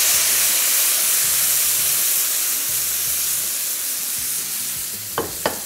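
An onion mixture fries in a pan with a steady, loud sizzle and hiss that runs throughout, broken near the end by two brief clinks.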